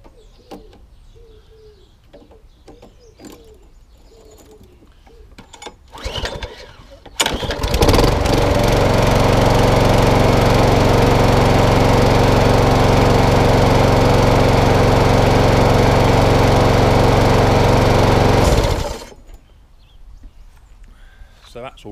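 Rusty lawnmower with a freshly cleaned carburetor starts after a few rustles and pulls, then runs as a loud, steady engine drone for about ten seconds before cutting out, with faint birdsong around it.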